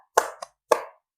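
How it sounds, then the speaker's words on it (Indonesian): Hand clapping to a children's Quran surah chant in a home lesson, three short hollow claps in an uneven pattern, two close together and then one more, crisp and near against silence. "Yuk kita sama-sama tepuk An-Nas."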